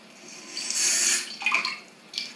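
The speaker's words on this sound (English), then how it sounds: "So I've just got about an inch of water in this pot." Water from a tap runs into a cooking pot in a kitchen, a brief gushing pour that swells, eases, then surges again for a moment, with no talking.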